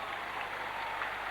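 Wigan rugby league fans in a stadium applaud, a soft, even wash of distant clapping that holds steady without peaks.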